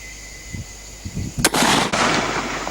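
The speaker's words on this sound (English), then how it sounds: "So let's take a few shots and just see how we go at that distance." A single sharp report from a Savage 10 FCP-SR .308 Win bolt action rifle, firing 168 grain Federal match rounds, bursts out loud and close after a few soft thumps. A sustained echoing wash follows it.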